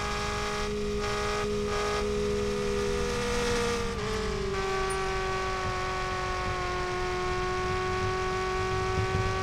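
Race car engine in the Revhead video game droning steadily as it laps an oval track, a sustained whine that dips in pitch around the four-second mark, with a constant rumble underneath and no talk.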